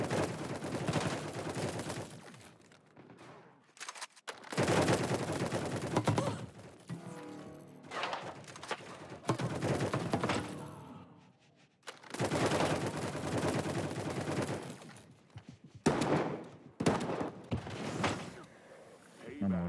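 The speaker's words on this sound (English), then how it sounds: "I don't know where those shots were even going for a minute" Rapid bursts of gunfire in a multiplayer shooter game, loud and dense, coming in several long volleys separated by brief gaps, with game announcer voices and talk mixed in.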